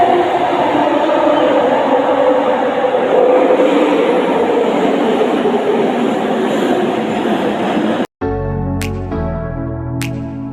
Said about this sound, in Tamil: ட்ரெயின் வந்துச்சு கைஸ்.